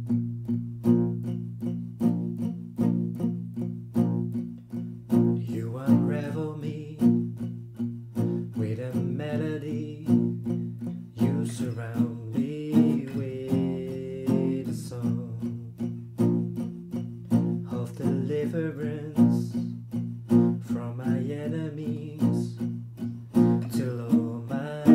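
An acoustic guitar with a capo strums steady downstrokes through the chords of the worship song No Longer Slaves, an even rhythm of full chords, played close and alone at moderate volume.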